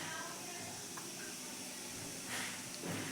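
A teaspoon of cumin seeds hits several spoonfuls of hot oil for a drumstick vegetable curry, giving a steady close sizzling hiss that swells briefly toward the end.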